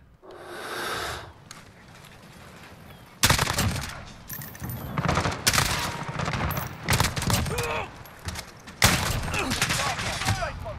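Automatic M4 rifle fire in Call of Duty Modern Warfare, loud rapid bursts of gunshots in several volleys with brief pauses, over a busy game soundscape with some breathing.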